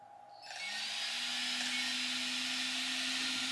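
An electric motor on a ZD Racing Pirates 3 off-road RC car on a 4S LiPo switches on and settles into a steady whine with a constant pitch, faint and close, with no voices.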